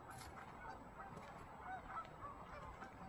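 Wild ducks call faintly from a distance outdoors, a few scattered honking cries over soft background noise, with no voices.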